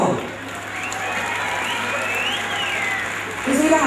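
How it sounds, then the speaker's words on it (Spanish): A fair crowd in Soyaniquilpan de Juárez applauds a mariachi band, steady and moderately distant, with whistles rising over the clapping and a swell of noise near the end. "Un aplauso para ellos."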